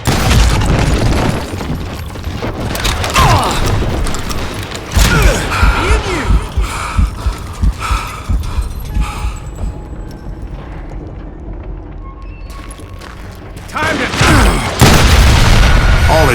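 Dynamite explosions in the Western shooter Call of Juarez Gunslinger: heavy booming blasts with rumbling low-end tails, several loud bursts in succession, a quieter lull, then another big detonation near the end.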